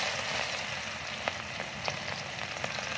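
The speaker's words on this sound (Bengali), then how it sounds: "এই তেলে জিরে দিয়ে দিলাম, পেঁয়াজ দিয়ে দিলাম।" Cumin and onion frying in oil, a dense, steady crackling sizzle close by, with occasional faint pops.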